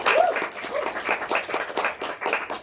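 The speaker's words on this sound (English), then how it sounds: "let's give them another round of applause" A book-launch audience gives a short, brief round of applause, quick bursts of clapping rising and falling in a small room.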